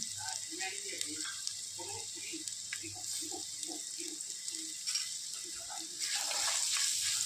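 Frying for white lemon pickle: a steady, faint hiss and sizzle from a pan, with light clinks of stirring and a voice talking over it.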